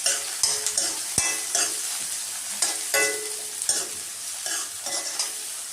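Onions, beetroot and curry leaves sauté in a pan, a steady close sizzle of frying broken by repeated scraping stirs of a spoon against the pan at an irregular rhythm.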